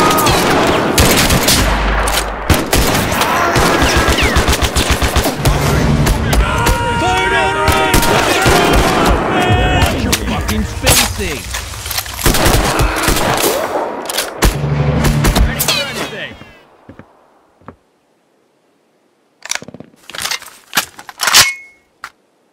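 Battle gunfire from the war video game Mud and Blood: dense, loud bursts of rifle and machine-gun fire with shouting voices, then an abrupt drop to near silence broken by a few last sharp shots.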